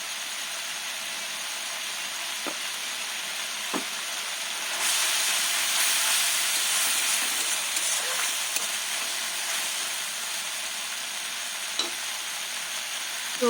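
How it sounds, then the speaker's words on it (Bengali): Maggi noodles cooking in a covered pot give a steady close hiss of steam and sizzle that swells louder partway through, with a few light clicks and no talking. "ম্যাগি হয়ে যাওয়ার পর সেদ্ধ হওয়ার জন্য এখানে ঢাকা দিয়ে দিলাম।"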